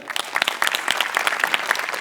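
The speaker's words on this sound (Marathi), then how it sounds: "सगळ्यात आधी सेटिंगवाल्यांसाठी टाळ्या" A theatre audience claps for a comedy show's set crew, a dense burst of close, lively applause filling the whole moment with no voices above it.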